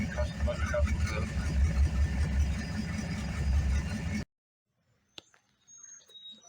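A Foxbody Mustang with an LS swap runs at a steady, loud, close rumble, then cuts off abruptly into near silence with a few faint clicks.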